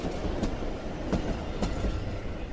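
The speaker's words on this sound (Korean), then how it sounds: "바로 앞 중앙선 철로로 하루에도 수십 차례 기차가 다니면서 진동과 소음이 일어납니다." A train runs along the Jungang Line railway right beside a historic Korean house in Andong, with a steady rolling rumble and sharp periodic clacks of wheels over rail joints, loud and close throughout.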